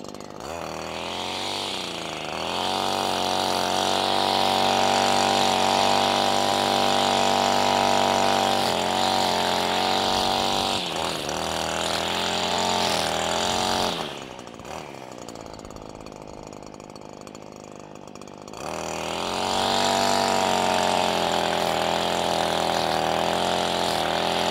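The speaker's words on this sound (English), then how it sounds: "this is another area where this weed eater really shines as far as being able to control the throttle speed" A STIHL FS 94R string trimmer engine runs loud and close, holding a high whine, dropping to a lower idle for a few seconds midway, then revving back up to full speed.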